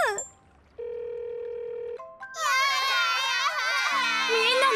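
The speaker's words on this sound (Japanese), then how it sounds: "花に電話すればいいんだ" Telephone ringing in a Tayo the Little Bus children's cartoon, a steady electronic ring tone repeating for about a second, followed by a rise into loud, high crying and excited children's voices.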